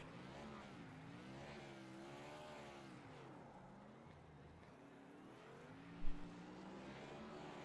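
Race car engine in a NASCAR-style racing video game at Michigan International Speedway, revving and wavering steadily through a victory-lane burnout, with a brief sharp bump near the end; no talk.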